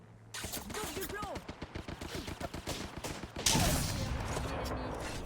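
Rapid bursts of gunfire in the video game Apex Legends crack out in dense, rhythmic volleys, then give way to a louder sustained roar of fire, with brief voice lines mixed in.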